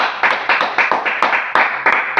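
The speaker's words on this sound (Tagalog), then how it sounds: "Bigyan natin ng palakpak!" A classroom of students claps in a quick, rhythmic unison pattern, about eight sharp, close bursts of hands in just over two seconds.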